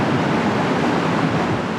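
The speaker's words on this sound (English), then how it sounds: "it's windy up here." Strong wind at a high lookout on the south coast of New South Wales buffets the microphone in a continuous rushing roar, loud and unbroken for the whole short moment.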